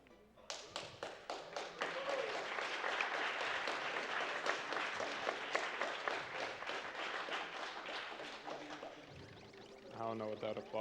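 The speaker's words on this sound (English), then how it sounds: "I don't know what that applause was for." Audience applause at the AGDQ speedrun charity event, starting from quiet into a swell of many people clapping with sharp individual claps in front, holding steady, then fading as a voice speaks at the end.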